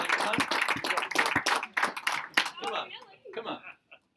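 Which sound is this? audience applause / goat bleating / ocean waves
audience applause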